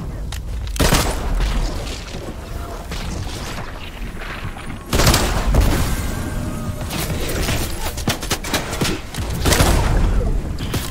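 Hop Rock Dualies dual pistols firing in Fortnite, loud repeated shots and booming impacts in clustered bursts, with heavier blasts at intervals amid game noise.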